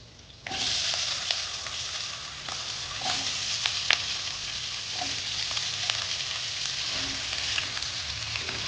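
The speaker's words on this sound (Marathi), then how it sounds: "आता बटाट्याच्या पोळी टाकू" Potato slices drop into hot oil tempered with curry leaves and asafoetida, giving a sudden loud sizzle that settles into steady close frying crackle with small pops, and no talking.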